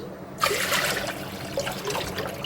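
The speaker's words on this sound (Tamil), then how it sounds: "மோரையும் அதில் ஊற்றிக்கிடுவோம்" Buttermilk is poured into a small pot of cooked pearl millet rice and water, a soft splashing trickle starting abruptly and running on for about two seconds, close and moderately quiet.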